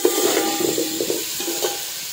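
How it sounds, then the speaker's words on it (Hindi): Potato pieces frying in hot oil with Kashmiri red chilli powder and salt for dum aloo biryani, a close steady sizzle broken by rhythmic stirring and scraping strokes in the pan. "अब गाइस आलू को अच्छे से लाल होने तक हमें फ्राई करना है।"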